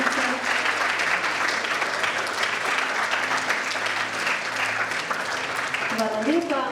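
Audience at a Slovenske Konjice youth awards ceremony giving steady, dense applause for the music school, with a voice speaking briefly near the end.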